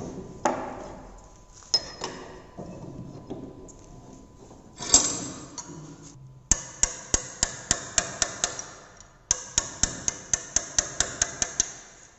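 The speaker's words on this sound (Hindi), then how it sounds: "अगर इस ग्रूव को भी काटना है तो हम क्रॉस कट छेनी का उपयोग करके इसे हम" A cross-cut chisel is struck with a hammer to cut a groove in metal, giving sharp metallic blows: scattered hits at first, then two fast, regular runs of about nine strikes each, close and loud with no talk.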